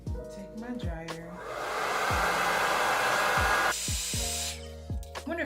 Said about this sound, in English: Take my dryer.